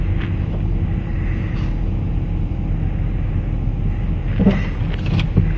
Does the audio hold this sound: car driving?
yes